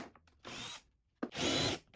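A 3/8 inch bit drills into plywood in two separate bursts, each about half a second long, quiet and close, with the motor whirring and the bit biting into wood.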